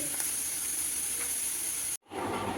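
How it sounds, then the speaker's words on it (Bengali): Papad frying in hot oil at breakfast time gives a steady, loud, close hiss that cuts off abruptly near the end, then quickly returns. "এই যে এখানে পাঁপড় ভাজছি আমি"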